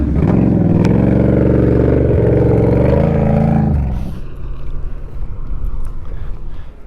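A Can-Am Renegade 1000 ATV engine roars loudly and steadily up close off road, its pitch shifting through revs before dropping to a rougher, quieter idle rumble.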